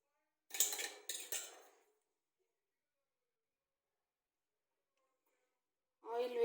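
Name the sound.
metal idli plates being handled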